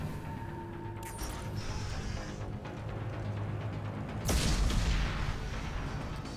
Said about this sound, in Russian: Все взрывается.